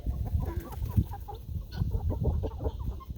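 Chickens and roosters fight and squabble on a homestead, with dense, agitated clucking and squawking close by that continues throughout.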